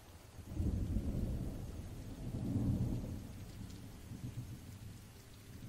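Rain falls steadily during a thunderstorm in Africa, with low rolling thunder swelling twice and then fading under the continuous patter of raindrops, no voices present.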